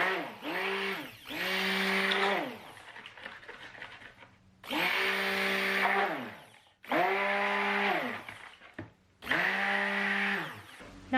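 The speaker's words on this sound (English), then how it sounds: "I'm gonna mix this in with my immersion blender" An immersion blender whirs in loud bursts as it mixes kaolin clay into homemade soap, running in four or five spurts of a few seconds each with short pauses between them.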